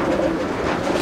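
Chennai breed pigeons in a loft, a continuous dense murmur of overlapping low coos, loud and close with no pause.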